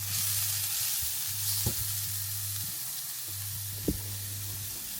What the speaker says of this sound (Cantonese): 將佢哋全部炒勻。